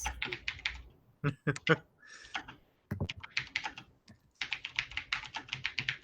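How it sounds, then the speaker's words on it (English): Rapid bursts of computer keyboard typing, close and crisp, with clustered keystrokes separated by short pauses and a faint voice underneath at times. "I'm just going to start typing them out."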